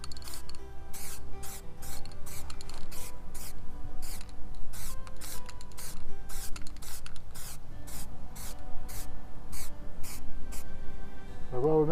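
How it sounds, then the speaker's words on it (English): A spray paint can sprays van bodywork in a long series of short, sharp hissing bursts, close and fairly loud, over a steady low background hum. "Always test your can beforehand, in case it sprays funny."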